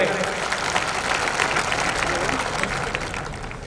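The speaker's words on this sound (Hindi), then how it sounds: "जोरदार तालियों से इनका स्वागत करें" Audience at the Ashoka Pratibha Samman award ceremony applauding loudly in welcome of a guest, a dense, steady wash of many hands clapping together that fades slightly toward the end.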